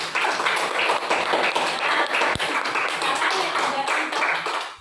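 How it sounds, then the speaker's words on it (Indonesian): Classroom students clapping for a classmate, a dense steady patter of many hands that runs the whole time, fairly close and loud, with some chatter mixed in. "tepuk tangan dulu untuk Ais"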